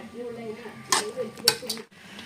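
A metal spoon scrapes and knocks against a cooking pot while elissery is stirred, with a few sharp clinks over a low simmer and a voice talking.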